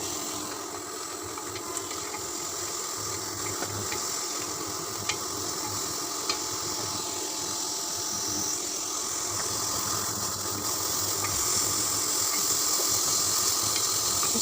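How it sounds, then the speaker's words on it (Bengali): Spice paste with chili powder, coriander powder, salt and turmeric fries for fish curry in a pan, giving a steady loud sizzle and hiss that runs unbroken throughout, with no talking. "মশলাটা কষিয়ে"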